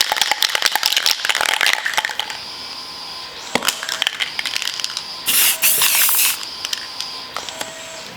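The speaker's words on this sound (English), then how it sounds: "I sprayed on a fair chunk of spray paint." A short hissing burst of spray paint hits a laminated PVC mat, lasting about a second, amid clicking and ratcheting from shaking and handling the can.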